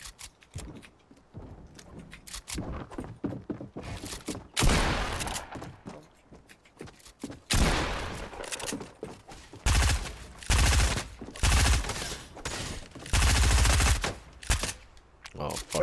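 Fortnite gunfire crackles in bursts of rapid shots, some sparse single pops and several dense sustained volleys, loud and sharp against quieter gaps.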